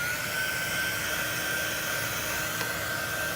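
A steady, continuous blow dryer roar runs throughout, loud and close, with a constant whine and no pauses or voices, as it dries craft paint.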